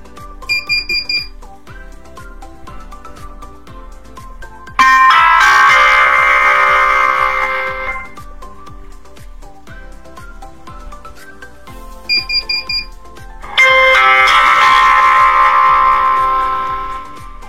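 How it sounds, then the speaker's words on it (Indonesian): A Zhafira paging system speaker plays its manual bell chime twice, each a loud multi-tone electronic chime lasting about three seconds, separated by quieter clicks and a softer tonal pattern. "Lalu kita tekan tombol bell manual di sini"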